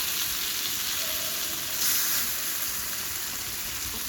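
Brinjal slices fry in hot oil with a dense, even sizzle like steady rain, a brief swell midway, heard alone without speech.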